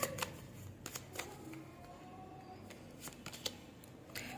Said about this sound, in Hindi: मैं यहाँ पे शफल कर रही हूँ, जब तक आप कोई क्वेश्चन पूछ लीजिए